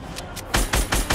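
Gunfire in the video game Fortnite, a run of four loud, sharp broadband shots in quick rhythm after two softer bursts, close and punchy with no talk over them.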